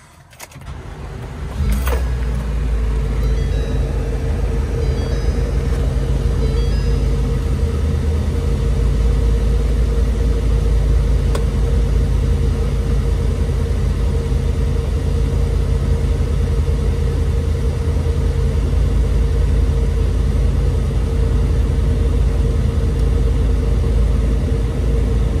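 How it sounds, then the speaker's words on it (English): A Ford-chassis 2022 Entegra Odyssey 30Z motorhome engine cranks briefly, catches, then settles into a steady, loud, low idle that runs unchanged. "On that Ford chassis, let's see if it cranks up."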